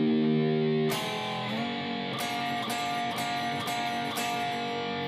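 Overdriven electric guitar plays a slow passage from the second verse of a blues song: a held chord, then a slide and a string of evenly spaced two-note picks, loud and sustained throughout.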